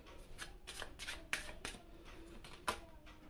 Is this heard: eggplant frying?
no